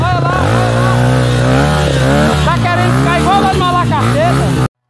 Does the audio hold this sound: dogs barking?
no